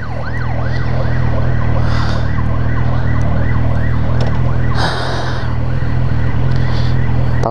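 Emergency vehicle siren wails in repeating rising and falling sweeps over a steady low engine drone, loud and close throughout.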